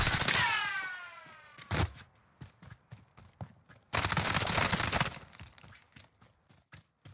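A Model 680 shotgun loaded with slug rounds fires in a video game, sharp heavy blasts separated by gaps, with pump clacks and quieter mechanical clicks between shots.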